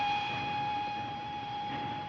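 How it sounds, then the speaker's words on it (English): A 1940s steam-era train, heard as a steady rolling rumble under a sustained whistle tone, even and continuous from a moderate distance, no voices. "The train!"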